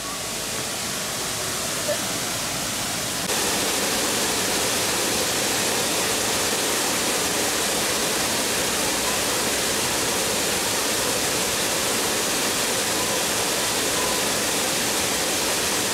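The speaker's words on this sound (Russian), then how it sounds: "И вот он водопадик." A small waterfall rushes and splashes continuously nearby, a dense, steady roar of falling water that never lets up.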